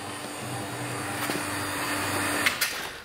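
A vacuum pump runs steadily, drawing moisture out of candies held in a vacuum chamber, giving a constant broadband hum with a low tonal drone and a couple of small clicks near the end, with no talking.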